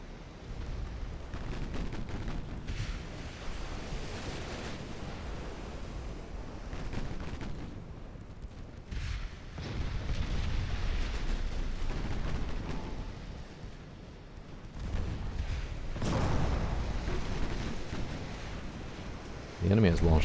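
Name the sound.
warship guns shelling in naval video game Ultimate Admiral: Dreadnoughts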